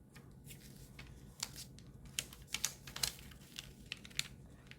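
Paper being folded and creased for a ninja spinning top: quiet, close crinkles and short sharp creasing taps in an uneven run, faint and with no talking.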